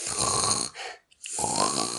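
A person snores in two long, rasping breaths separated by a short silent gap, loud and close with a harsh, buzzing texture.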